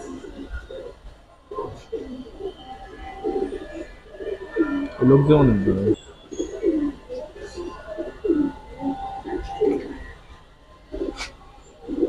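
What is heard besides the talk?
Giribaz pigeons cooing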